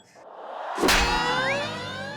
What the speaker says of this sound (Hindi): घंटी बजा के।